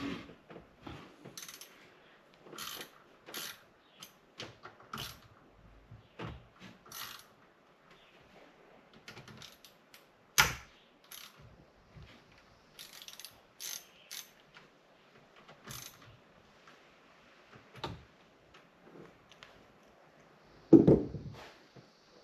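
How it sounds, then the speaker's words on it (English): Ratchet wrench undoing screws on a 2019 Sea-Doo GTI personal watercraft during an oil change, with quiet intermittent clicking bursts of the pawl, scattered light metallic taps and handling noises, close and fairly soft. "I'm gonna start undoing these screws."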